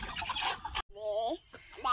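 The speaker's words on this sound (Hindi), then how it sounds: "और ये देख सकते हैं काफ़ी सारे मुर्गे हैं यहाँ पे फार्म में।" Chickens cluck at a large village poultry farm, with short calls close by that mix with a person talking over the flock.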